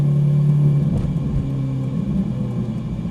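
A Ferrari 458 Italia engine while driving, a loud steady hum in the cabin that drops away and then settles into a lower, rougher drone, with no voices.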